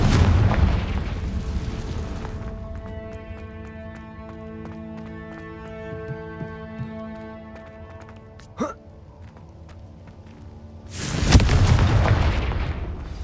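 Confringo blasting spell explosions in Hogwarts Legacy: a loud booming blast at the start, then a quieter stretch of ambient music, then a second heavy explosive burst near the end.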